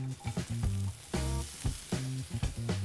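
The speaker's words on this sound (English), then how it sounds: "Once the oil is hot, we're going to be adding in half an onion that we have sliced up" Sliced onion sizzles steadily in hot olive oil in a pan over medium-low heat, a continuous close frying hiss with a musical tone running underneath.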